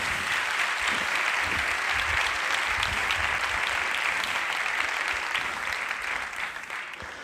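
Audience at a Spanish-language talk on the future of language applauding a neuroscientist speaker, dense sustained clapping from a large crowd that holds steady for several seconds and then begins to fade, no talking.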